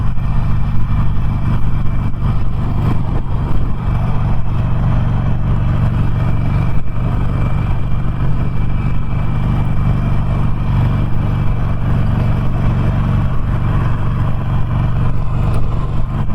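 A 2019 Harley-Davidson Sportster Roadster engine drones steadily and loudly while riding through traffic, with continuous wind and road rumble and no talking.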